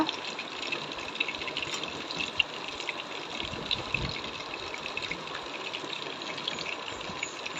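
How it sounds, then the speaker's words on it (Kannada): Chicken kabab made from leg pieces fries in hot oil at home, a steady close hiss and crackle with continuous fizzing and small pops throughout, no voices. "ಇವಾಗ ಫ್ರೈ ಆಗ್ತಾ ಇದೆ ನೋಡಿ ಕಬಾಬ್ ಫ್ರೈ ಸೂಪರ್ ಆಗಿದೆ"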